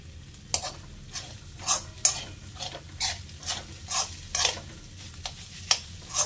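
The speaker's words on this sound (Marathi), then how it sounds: "आता ह्याच्यामध्ये आपण लसूण घालून थोडंसं परतायचं" Garlic sautéed in a pan with leftover rice, a steady low sizzle broken by a regular rhythm of spatula strokes scraping and stirring about twice a second, fairly quiet, no talking.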